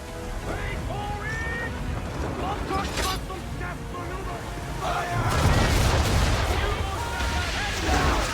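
Ship cannon volley in Assassin's Creed 3 during a naval battle, a heavy rolling boom of several shots over wind and ocean noise, with voices shouting beneath the din.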